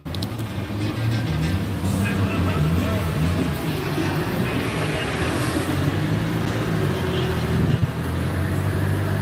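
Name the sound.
car running on an outdoor dyno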